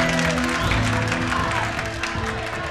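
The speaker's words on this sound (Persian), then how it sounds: "تا که تشویق نکدین براتون نمیگم" Studio audience applauds at a TV singing competition results show, The Voice of Afghanistan, with steady, dense clapping and crowd noise filling the short stretch.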